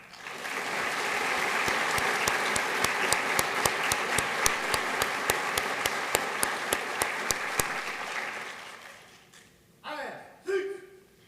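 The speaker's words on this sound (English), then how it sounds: "Please join me in a round of applause for the families of these cadets." A round of applause from the crowd at a Georgia State Patrol trooper school graduation, steady claps for several seconds before fading, followed by a voice.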